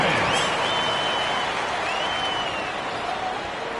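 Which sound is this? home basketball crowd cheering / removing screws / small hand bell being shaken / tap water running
home basketball crowd cheering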